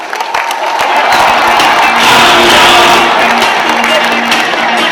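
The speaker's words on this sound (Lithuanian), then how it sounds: "Aplodismentai jaunajam kapitonui." A crowd claps and cheers loudly for a young team captain at a celebration for a club's fiftieth anniversary, with whoops and shouts over steady applause throughout.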